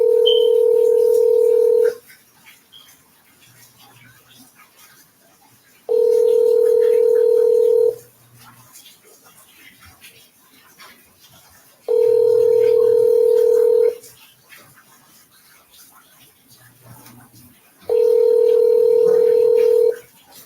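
Telephone ringback on an unanswered call: four long, loud, steady ring tones, each about two seconds, repeating at an even rhythm with quiet gaps between them and no voices.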